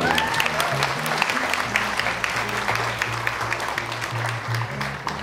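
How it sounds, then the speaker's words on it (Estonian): Sustained audience applause greets a jury representative at the Saarepiiga 2011 beauty pageant awards ceremony, with a dense, steady patter of many hands over low background music for the whole stretch. "See on suure aplausi talle"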